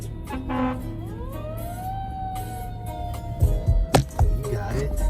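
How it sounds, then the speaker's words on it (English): A fire truck siren wails as the truck pulls out of its station, a rising then steady tone over street traffic and engine rumble, followed by a few sharp bangs near the end. "We have a fire truck leaving the station right here."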